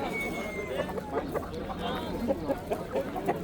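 Soft clucks from a fighting rooster at a Samarkand poultry market come in a loose, repeated rhythm under a steady hubbub of voices and crowd noise.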